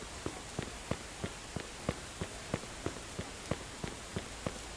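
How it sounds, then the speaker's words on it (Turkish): Steady rain hisses across a Mafia II street scene while footsteps tap out an even, regular rhythm close by, about three steps a second, with no talking. "Yağmurda gidiyoruz olsun abi."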